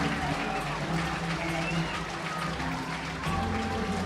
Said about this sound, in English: Kingswood College taking the field to a very, very loud ovation from the crowd who are here